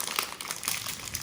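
Crinkling plastic wrap torn and handled while unboxing a Rubik's cube package, a short close burst of crisp rustles and crackles.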